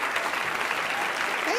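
A comedy club audience applauds a stand-up comedian as she takes the stage, a dense, steady wash of clapping heard briefly with a voice faintly underneath.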